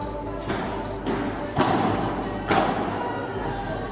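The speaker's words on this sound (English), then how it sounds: "Oh, and I get done by a drop volley." Padel ball struck during a club match rally, a drop volley among several soft thuds of ball on racket and court, moderately close, with faint background voices.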